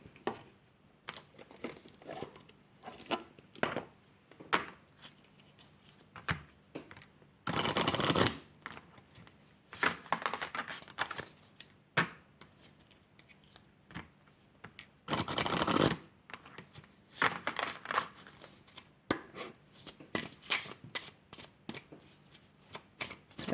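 Oracle cards being shuffled by hand, soft riffling and flicking in short bursts with a couple of longer louder shuffles, close and quiet with brief pauses between.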